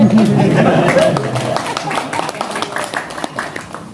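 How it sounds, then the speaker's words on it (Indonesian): Audience clapping at a religious gathering in Bogor, a scattered round of claps under a continuing voice and crowd murmur, fading slightly toward the end. "Boleh kalau mau tepuk tangan silakan."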